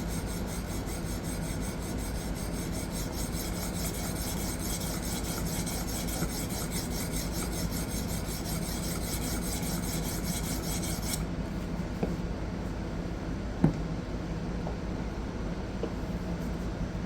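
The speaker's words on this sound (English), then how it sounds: "These stones cut very fast, so it does not take long to clean up the scratch patterns from the previous stone." Fast-cutting sharpening stones rasp steadily back and forth across a D2 steel knife clamped in a Hapstone fixed-angle sharpener, a continuous close scraping with a few clicks near the end and no talk.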